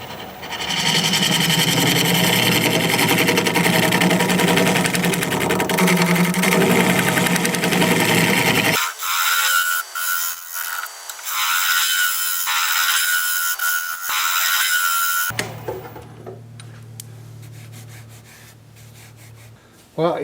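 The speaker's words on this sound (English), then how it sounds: "I'm gonna try scraping it." A scraper works hard olive wood spinning on a lathe, a loud harsh continuous rasp that cuts off abruptly and gives way to a quieter whirring motor hum, then fades.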